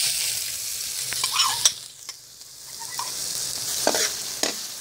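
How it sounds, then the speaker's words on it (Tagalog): Onions sizzle in hot oil in a pan, a bright steady frying hiss with occasional stirring scrapes and clinks, swelling and easing as the pan is worked. "Magsisimula na tayong maggisa"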